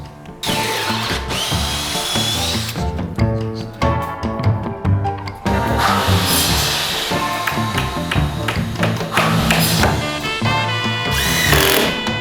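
A power drill bores dowel holes into the wood of a homemade soundproof door, whining in repeated bursts with short pauses, loud and up close.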